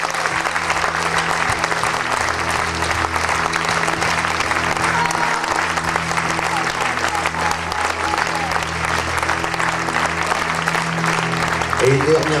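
An audience applauds steadily at the close of a live concert, a dense, loud wash of clapping that continues unbroken for the whole stretch.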